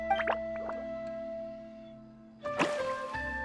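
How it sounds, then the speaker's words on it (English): Water droplets in Genshin Impact fall in a few soft, separate drips that ring with bright chime-like tones over a quiet game background. "Water droplet?"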